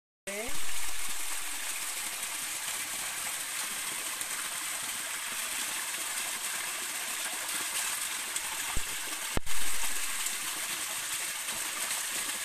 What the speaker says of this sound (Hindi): आप देख सकते हो कि पत्थर में से पानी निकल के आ रहा है।